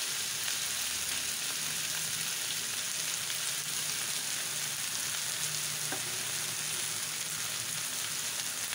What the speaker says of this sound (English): I'll put in about a tablespoon of tomato sauce.